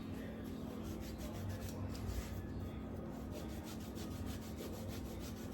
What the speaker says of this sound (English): We're gonna add a little bit more lemon zest.